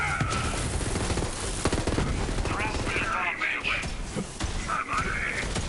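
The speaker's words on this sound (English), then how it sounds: "it shoots all the bullets out pretty fast" Rapid bursts of gunfire from a fast-emptying gun in Borderlands 3, loud and dense shots crackling continuously throughout alongside game effects and occasional groans.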